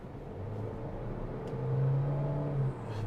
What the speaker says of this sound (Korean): 초반 가속할 때는 가볍게 나가는데 그 다음에 이제 중간 추월 가속할 적에는 오히려 좀 죽는 것 같은 게 있네요